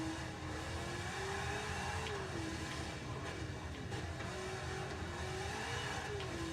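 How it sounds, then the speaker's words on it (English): A four-wheel-drive race car in the Forza 7 racing game accelerates with brief wheel spin, its engine droning loud and steady with a rising and falling pitch over a dense roar of road and tire noise. "A little bit of wheel spin, but it was very quickly resolved by the massive tires and four-wheel drive system"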